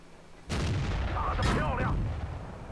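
Tank cannon fires in World of Tanks, a single heavy boom with a long rolling tail, fairly close, followed by a faint metallic ring as the shell strikes an enemy Pershing's rear.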